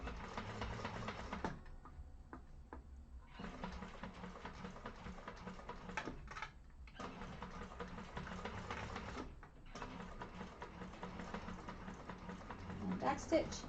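A sewing machine stitches a hobo bag in short back-and-forth runs, whirring in bursts separated by brief pauses, with a voice talking quietly alongside.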